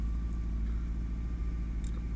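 A Tofaş car engine, started for the first time in six months, idles with a steady, close, loud low rumble and an even, throbbing pulse throughout, with no voices.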